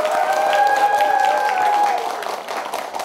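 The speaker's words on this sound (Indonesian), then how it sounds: "Tepuk tangan semua." Audience applause at a Balai Diklat Keagamaan Palembang event, steady and moderately loud clapping from a crowd for about two seconds, then thinning, with a sustained tonal sound running over the top.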